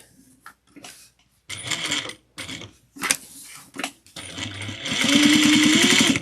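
A sewing machine stitches a tote bag in short, stop-start bursts of rapid mechanical whirring separated by brief pauses, ending in a longer, louder continuous run.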